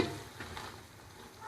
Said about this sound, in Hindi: मूंग डालने के बाद इनको भी अच्छे से भूनना है मसालों में